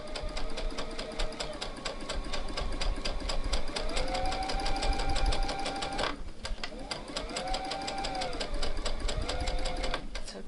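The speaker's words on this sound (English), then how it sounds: "I've got it on automatic back stitch when I start and finish." A domestic sewing machine set to automatic back stitch runs in fast, even mechanical clatter, briefly pausing and restarting, with a nearby voice talking over the stitching.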